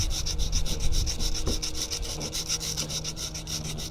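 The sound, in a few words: sanding surface for Gluetread installation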